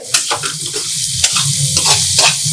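Cumin seeds frying in hot oil in a pan crackle and sizzle steadily and loudly at close range, with spoon stirring scrapes mixed in and no talk.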